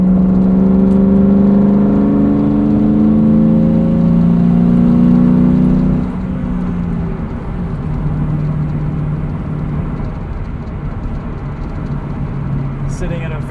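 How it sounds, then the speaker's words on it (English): A 2003 Ford Mustang Mach 1 engine cruising on the highway at about 2000 RPM, a steady low droning hum with road noise that drops slightly partway through, and someone talks over it. "Sitting at a very happy 2000 RPM on the highway, just cruising here."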